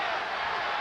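Arena crowd cheering during a 1984 Lakers–Suns playoff basketball game, a broad sustained roar from the stands, steady and fairly loud across the whole moment.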